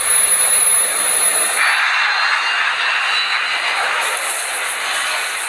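A KLM jet airliner's engines roar loudly at close range as it speeds down the runway at nearly 200 miles an hour, a steady, broad rushing drone with a high whine, and no voices.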